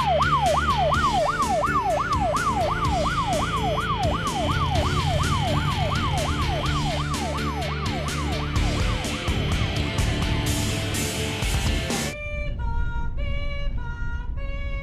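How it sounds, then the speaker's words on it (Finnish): An ambulance siren in a video game wails in a fast, rising-and-falling yelp over vehicle engine noise, loud and continuous, then switches to a different stepped electronic tone near the end. "Ostit sitten ambulanssin pillin."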